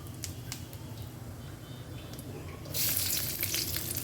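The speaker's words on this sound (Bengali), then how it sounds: "মাছ ভাজা তেলেই আমি দিয়ে দিলাম কালো জিরে ফোড়নে আর দিয়ে দেবো কয়েকটা কাঁচা লঙ্কা" Nigella seeds and green chillies crackle in oil left over from frying fish, a soft continuous sizzle that swells into a brighter, louder hiss partway through.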